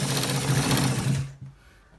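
A sewing machine stitches a straight seam on a shirt, running steadily and fairly close for over a second before stopping, leaving a faint low tail.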